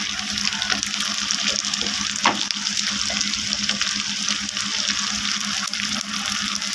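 Spice paste of garlic and cumin with turmeric powder fries in a pan for a rohu fish curry, producing a continuous, even, close sizzle with no one talking.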